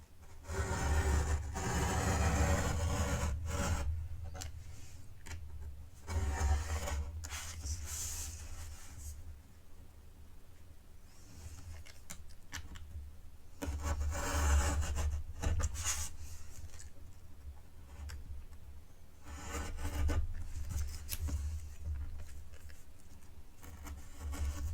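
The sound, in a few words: utility knife cutting paper along fold line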